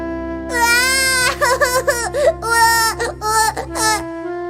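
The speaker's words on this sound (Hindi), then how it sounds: "उसमें से एक बच्चे की रोने की आवाज आने लगी" A baby's cry sound effect rises from inside a large pumpkin cut open with a knife. The close, loud wailing sobs come in several rising and breaking bursts over a steady low background drone.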